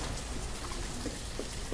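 Steady rain falling in the video game Banished, an even wash of dense patter with a few distinct droplet ticks near the end and no voices.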